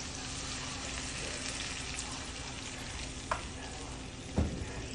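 Cooked-down spice paste for a spicy fish curry sizzles quietly in a pan, with a steady soft crackle and two short sharper bursts as a little water goes in.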